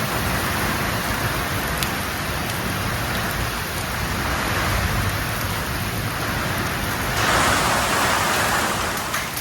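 Heavy downpour seen from a rooftop doorway, a steady dense roar of rain that swells louder near the end, with no voices.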